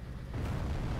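A bomb explodes on a city in the strategy game ICBM, making a short, muffled, low boom and rumble at modest volume with no talk.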